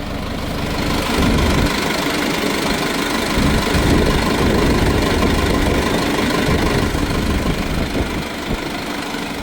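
A Sonalika Tiger 75 CRDI tractor's heavy diesel engine runs steadily in second gear at about 1500 RPM during banana mulching, a loud, close, continuous low rumble with knocking vibration.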